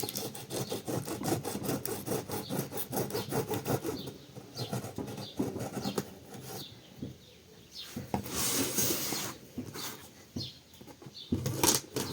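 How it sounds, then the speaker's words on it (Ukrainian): Upgrade parts for an HP Z620 workstation being unboxed: rapid rhythmic rubbing and scraping of cardboard and packaging, then rustling and tearing bursts, close and moderately quiet, with no talking. "Почнемо із розпаковки"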